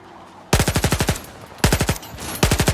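An MP5 submachine gun in Stalker 2 fires three loud, close bursts of rapid shots, each a tight rattling string of about five or six rounds separated by short pauses.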